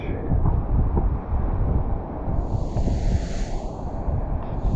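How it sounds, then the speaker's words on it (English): Strong wind roars steadily across a microphone near the ocean, a constant buffeting rush with deep low rumble throughout. "Hopefully you can hear me over the windy conditions of the ocean."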